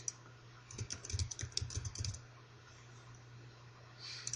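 Quiet burst of keystrokes on a computer keyboard, a quick run of clicks lasting about two seconds before fading to faint room hum, with a brief rustle at the end.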